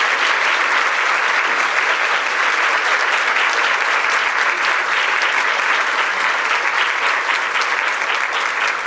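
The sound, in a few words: audience applause for a panel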